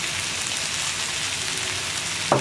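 Chopped capsicum hitting hot sauce in a pan for egg chilli, giving a steady, close sizzle that hisses evenly throughout, ending in a brief clack.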